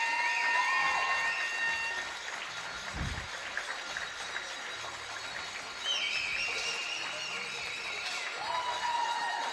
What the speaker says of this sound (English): And some great noise from the crowd and support.